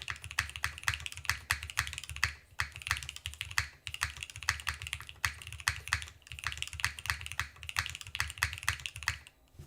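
Steady, close typing on a custom mechanical keyboard with PBT keycaps, with quick, even keystrokes in continuous runs separated by brief pauses, heard alone with no talking.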